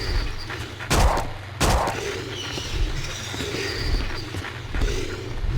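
Two gunshots about a second apart ring out in Silent Hill: Origins, over a steady, rumbling background ambience that continues after them.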